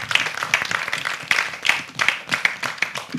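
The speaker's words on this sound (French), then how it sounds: "les prestations des différents candidats que je vous prie aussi d'applaudir" A small audience applauds the candidates after their performances, scattered individual claps standing out sharply over a thinner, uneven patter of hands, close by and fairly brief.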